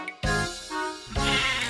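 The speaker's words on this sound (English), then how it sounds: "sheep," A sheep bleats loudly and close by in two or three wavering, harmonic calls, each running straight into the next, with nothing else behind them.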